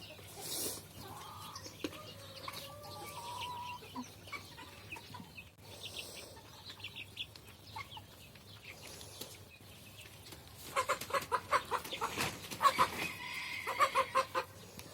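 Chickens in a coop cluck and squawk nearby during a fight, scattered at first, then a busier burst of rapid agitated clucking toward the end.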